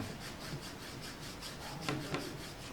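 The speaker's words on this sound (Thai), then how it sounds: "ชิ้นใหญ่ๆอย่างนี้เราควรใช้เลื่อย เสร็จแล้วก็เอา ตะไบตะไบสักหน่อย" Quiet, steady back-and-forth rasping of a small saw or file working a resin model gun part, close by, with a couple of sharper scrapes near the end.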